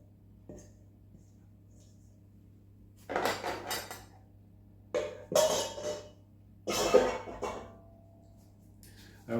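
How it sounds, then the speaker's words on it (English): A bowl of granola mix is scraped out with a utensil in three separate bursts of clinking and scraping, close by in a quiet kitchen. "Scrape out the bowl again, don't want to leave any of those delicious things in there."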